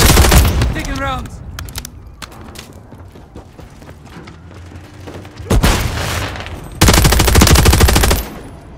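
Gunfire in Call of Duty Modern Warfare 3: loud, rapid automatic bursts, with a long sustained burst near the end, scattered single shots and mechanical weapon handling between them, plus brief voice chatter.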